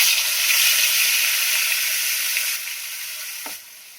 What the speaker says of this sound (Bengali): ইলিশ মাছ ভাজা